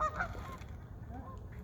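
Geese honk loudly at Burke Lake, Virginia, while feeding among seagulls, a burst of overlapping calls at the start easing into fainter scattered honks over steady outdoor background noise.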